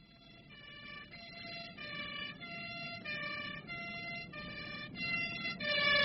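An ambulance siren wails in a repeating two-tone pattern over steady road traffic rumble, growing slightly louder toward the end, as a radio drama sound effect.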